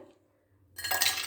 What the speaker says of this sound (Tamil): கொஞ்சம் ஐஸ் க்யூப்ஸ் போட்டுக்கலாம்